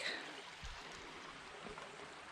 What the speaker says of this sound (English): There's Doe's Creek.